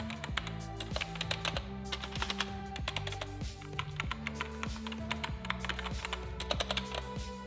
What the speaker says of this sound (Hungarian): alapvetően ez egy red switches billentyűzet